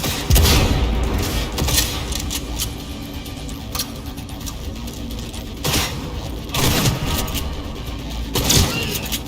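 Bursts of gunfire in the video game Cyberpunk 2077, loud crackling volleys that come in uneven clusters with heavy booms, with no voices over them.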